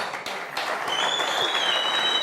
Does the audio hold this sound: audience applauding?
yes